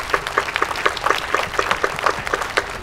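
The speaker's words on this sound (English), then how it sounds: "How about a big round of applause for the municipal band?" A crowd applauds a municipal band at an outdoor bandshell ribbon cutting, a dense patter of many hands at moderate loudness with no voices over it.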